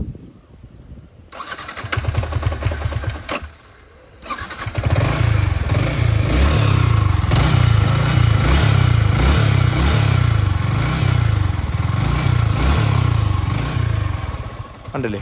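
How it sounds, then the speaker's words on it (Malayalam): A Yamaha R15 motorcycle engine cranks and starts, stalls briefly, then fires again and runs loud and close with a rhythmic, pulsing idle and light revs. "വണ്ടിയുടെ എഞ്ചിൻ സൗണ്ട് ഞാൻ ജസ്റ്റ് ഒന്ന് കേൾപ്പിച്ചു തരാം"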